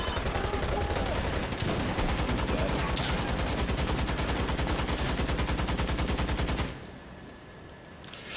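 Sustained rapid automatic gunfire in Insurgency: Sandstorm, a loud, dense stream of shots that runs for several seconds and then cuts off to a quieter background.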